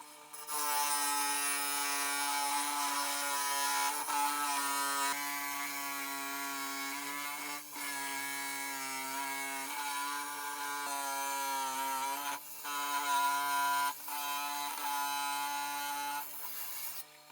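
A steady, loud motorized saw whines continuously through geode rock for a long stretch, with slight dips in pitch as the blade bites.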